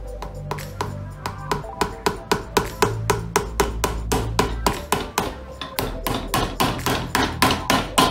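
A shoemaker's hammer drives tacks through a leather shoe and footbed into a last at a bespoke repair bench, sounding as a steady run of sharp, close metallic taps, roughly two or three per second, over a low hum.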